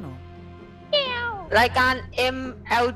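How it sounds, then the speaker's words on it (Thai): Several loud, close cat meows in a room, a long drawn-out cry followed by three shorter ones, with people talking around them. "เมื่อกี้ได้ยินเสียงแมวมาร้องอยู่ในห้องนั้น"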